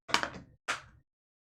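Door sound effect from the Mansions of Madness board game app: two close, sharp wooden knocks or thuds about half a second apart, with clear silence after.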